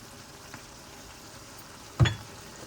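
Chicken fries in a pan with tomato and whole spices for a Fiji-style white chicken fry: a steady, soft sizzle with one brief louder clatter of stirring midway.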